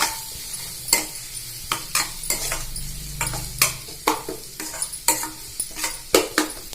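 Food sizzles in a pan with turmeric while a utensil stirs and scrapes with frequent clicking taps, close by and moderately quiet.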